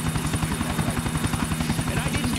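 Helicopter in GTA The Ballad of Gay Tony, a steady loud rotor thump with a whining engine hum, continuous and close, like sitting inside the chopper.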